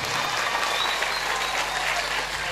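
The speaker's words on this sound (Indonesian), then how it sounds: "Tepuk tangan untuk Pak Tasimin." Steady audience applause at an Islamic school (MTsN Grabag) inauguration ceremony, dense and continuous for about two and a half seconds at moderate level, with a low hum underneath.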